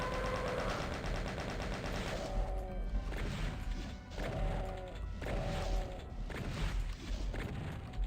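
Rocket launcher fire aimed at a Hell Knight in Doom 2, loud repeated blasts and crashing impacts layered over a dense, continuous din of game sound.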